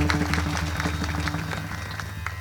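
Hand clapping from a kirtan audience at a devotional singing gathering, rising as a bright, busy patter over sustained musical drones and tones throughout.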